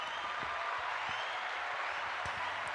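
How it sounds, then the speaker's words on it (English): Applause for podcast guest Coach G: a continuous, even wash of clapping, moderately quiet and without breaks, with no voices standing out. "everyone give Coach G a round of applause"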